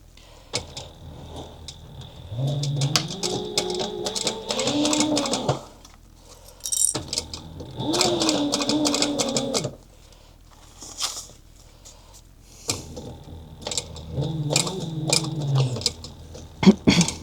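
A sewing machine stitches a clutch wallet in three bursts, each a fast rhythmic whirring run with pitch shifts as it speeds and backstitches, separated by short pauses with light clicks, heard close and alone.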